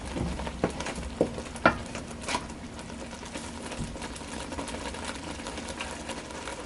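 Rice fries in a pan for Liberian fried rice with a steady low sizzle, with a few brief clicks and scrapes early on, then a quiet, even crackle.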